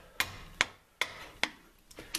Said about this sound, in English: you're going to loosen up the frame that holds the caliper on. So you're going to take the hammer